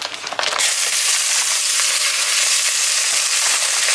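Meat hitting a hot pan and frying, a loud, steady, dense sizzle that starts abruptly and holds without letting up, close and alone.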